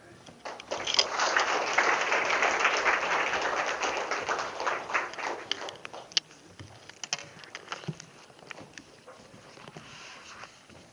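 A church congregation at a Sunday morning service claps together, a dense burst of applause that swells and then thins out into scattered claps and taps over about eleven seconds.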